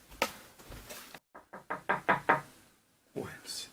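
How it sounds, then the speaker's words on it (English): Six firm raps on a door sound in an uneven run, close and clear, in a modern-day staging of the Macbeth knocking scene, with brief voices before and after. "Whence is that knocking?"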